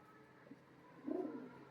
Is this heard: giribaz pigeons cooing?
yes